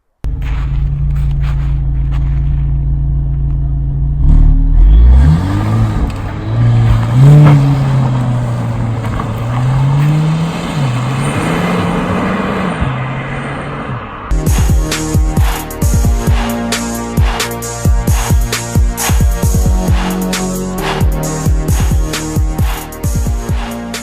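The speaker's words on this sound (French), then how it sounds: "Il y a vraiment un moteur qui demande qu'à rugir en dessous." A Renault Megane 4 GT with a 205-horsepower engine roars loudly as it accelerates, the pitch climbing through the revs, then continues with a harsher, crackling engine note through the later part of the run.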